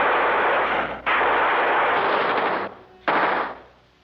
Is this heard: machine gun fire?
yes